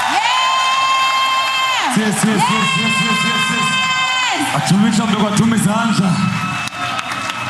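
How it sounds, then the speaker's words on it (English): A crowd at a political party event after a Bhangra dance performance claps, cheers and whoops loudly, with tonal, music-like voices rising over the noise throughout. "Can we please give them a round of applause?"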